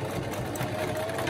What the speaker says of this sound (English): whether you have a sewing machine or not, I'm gonna just put it on running stitch